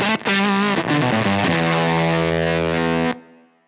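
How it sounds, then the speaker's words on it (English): Electric guitar played through a JHS 3 Series fuzz pedal, a loud, thick distorted chord strummed and sustained for about three seconds, then cutting off cleanly with very little residual noise. "you can kind of use this pedal as a fuzz that sort of doesn't have a heck of a lot of noise when you stop playing"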